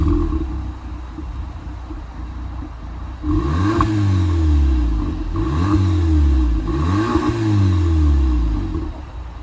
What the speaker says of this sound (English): A massive thing that is a must, I believe, for the Polo GTI is getting the upgraded exhaust